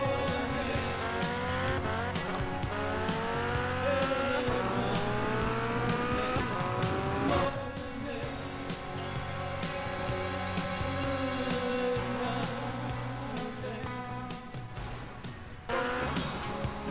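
A stolen car in GTA Vice City on PS4 revs and races along, its engine tone climbing and dropping through repeated gear sweeps, with sharp tire squeals and skids breaking in midway, loud and continuous throughout.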